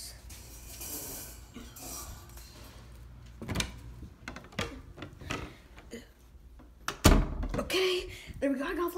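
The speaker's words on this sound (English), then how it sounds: "Close the door." A door being closed in a dark space, giving a sharp thunk amid shuffling and movement noises, with people talking nearby.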